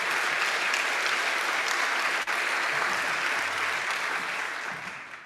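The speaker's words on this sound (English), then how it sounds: "they deserve a round of applause." An audience at a university president's welcome for new families gives a round of applause, dense sustained clapping that stays loud throughout and thins slightly toward the end.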